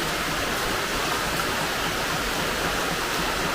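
Heavy rain pours down in a dense, unbroken roar, loud and constant from start to finish with no voices.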